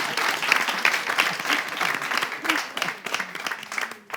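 A studio audience at a live television show debrief applauds the host, with dense, steady clapping running throughout and a few voices mixed in.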